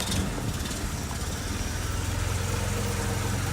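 An Opel Manta engine runs steadily just after an engine refit, a low, rough idle that fills the short stretch evenly and close by, with no talk over it.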